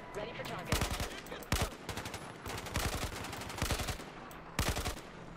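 Gunfire in the video game Battlefield 4, short rapid bursts of automatic shots in quick clusters separated by brief gaps, sharp and fairly close.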